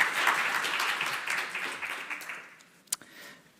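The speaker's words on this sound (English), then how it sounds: "Let's give a speaker a round of applause." A conference audience applauds a speaker, steady clapping that fades out over a few seconds, followed by a couple of last isolated claps in the near-quiet room.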